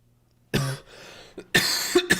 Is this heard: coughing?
yes